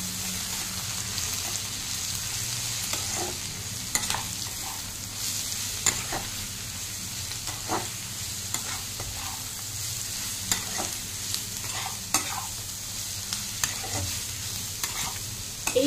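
Vegetables fry with red chili and coriander powder while a spatula stirs and scrapes the pan in irregular knocks over a continuous close sizzle, with a low hum beneath; no talk.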